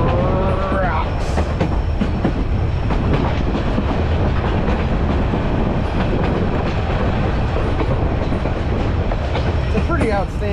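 White Pass train rolling along the rails after a landslide, loud continuous rumble with rhythmic wheel clatter throughout, heard up close from the train, with brief squeals and voices talking near the start and end.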